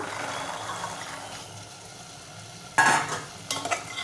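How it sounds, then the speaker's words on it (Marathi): Soaked white peas and potato go into frying masala for a Malvani-style usal, with a soft sizzle that gives way to a sudden loud splash of sizzling and a second burst of stirring near the end, close by and with no speech. "आता आपण भिजवलेला पांढरा वाटाणा आणि बटाटा घालूया"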